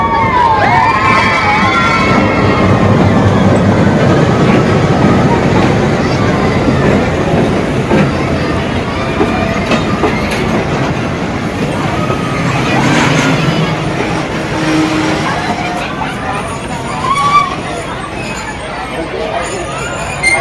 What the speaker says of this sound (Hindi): ये हो जमालो ट्रेन का इफ्तिताह।